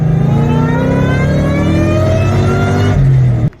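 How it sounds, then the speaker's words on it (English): Close, loud Suzuki Samurai engine climbing in pitch through a throttle blip, then dropping back and cutting off abruptly at the end. "I'll give it a little blip here"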